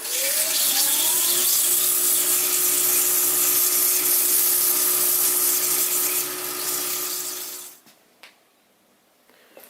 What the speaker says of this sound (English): what I'm going to do is just do some sanding